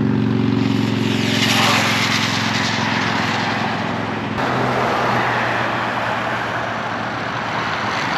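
A Traxxas 4-Tec 3.0 RC car on a speed run at full throttle gives a loud, steady motor whine with broadband road and wind noise. The pitch drops slightly partway through as the car passes.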